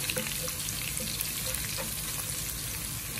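Garlic frying in a pan gives a loud, dense sizzle with constant crackling and occasional stirring scrapes, close up and uninterrupted, with no voices.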